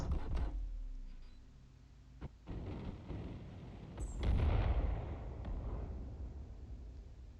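A ship's weapon fires at a locked target in Star Citizen, producing a few heavy booming blasts with a rumbling roar and trailing decay, fairly loud against a low background hum.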